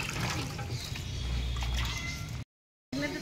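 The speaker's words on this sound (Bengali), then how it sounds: "কিমাটা ধোয়া হচ্ছে।" Running tap water rinses raw chicken mince in a kitchen, a steady broadband splashing wash that fills most of the moment before a brief cut to silence, then resumes.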